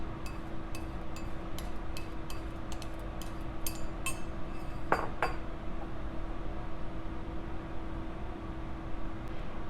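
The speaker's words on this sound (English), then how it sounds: "Add the mixed solids to the base while stirring with a glass stir rod." A glass stir rod clinks against a container while stirring a hot lollipop mixture of compounded solids and base. It makes a quick series of light, close taps and chinks, then fewer, over a steady low hum, with no talk.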